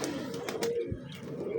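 Pet pigeons kept on a rooftop, including golden and Salkoti gulatu types, give soft low coos, a couple of short murmuring calls fairly close with faint chirps above.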